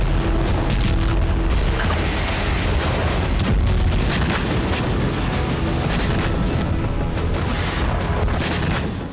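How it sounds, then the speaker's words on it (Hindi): A Russian strike on a Ukrainian weapons depot stocked with missiles and MLRS rockets sets off continuous dense booms and crackling blasts, loud and rumbling throughout with no pause. "यहां रूस के हमले में यूक्रेनी हथियार गोदाम नष्ट हो गए।"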